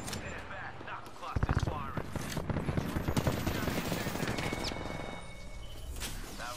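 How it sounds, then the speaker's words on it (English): Rapid automatic gunfire from the battle royale game Apex Legends bursts out in dense, loud volleys after a quiet start, with sharp individual shots and game effects and excited voices talking over it. "I shot him in the foot for the last bit!"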